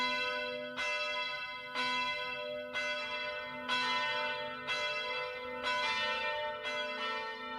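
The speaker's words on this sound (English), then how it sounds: "Father Bart, gotta love those sound effects there with the bells." Church bells ring in a steady, evenly spaced sequence of about eight strikes, each tone ringing on into the next, with no voices.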